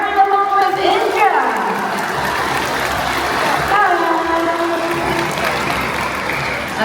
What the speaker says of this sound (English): Let's give a big round of applause for Jerry along with Indra